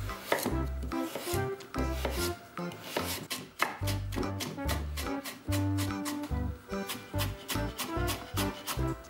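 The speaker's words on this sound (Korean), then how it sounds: "당근 20g은 다져주세요." Carrot being minced with a kitchen knife on a cutting board, 20 g worth for Korean meatballs: rapid, steady chopping strikes in quick bursts, close and clear, with no talking over it.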